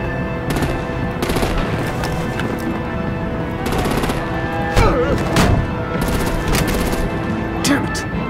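Video game battle in Batman: The Enemy Within, with loud rapid machine-gun bursts and gunfire over a rumbling background, broken by short bangs, with voices in the mix.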